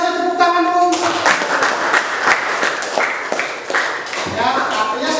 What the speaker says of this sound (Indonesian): Luar biasa, tepuk tangan dulu.